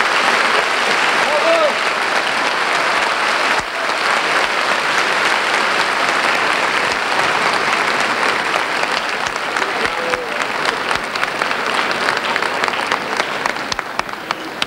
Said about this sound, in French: Applaudissez, mesdames.